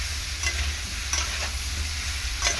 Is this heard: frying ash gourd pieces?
yes